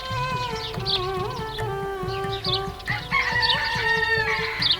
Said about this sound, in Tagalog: Kapag ang mga tandang ay nagsimula ng tumilaok,